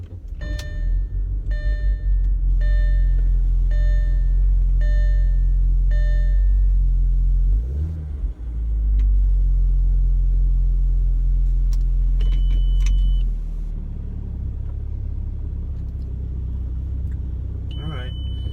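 An Audi A4 B7 Avant with an APR Stage III tune cranks and starts, settling into a loud, deep idle rumble up close, with chiming warning tones and a brief whine, then the engine noise drops lower near the end.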